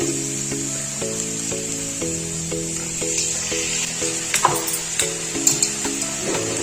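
Ground masala fries and sizzles in a pan with turmeric and salt for a North Karnataka-style pulao, a steady soft hiss with occasional crackles beneath background music.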